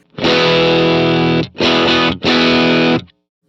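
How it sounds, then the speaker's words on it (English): A distorted electric guitar chord through a Pettyjohn Electronics Chime MKII overdrive in germanium clipping mode, struck three times, thick and compressed, each strum ringing out before a short break. "if you go more toward this germanium clipping mode, you're going to hear it compressing a little bit more."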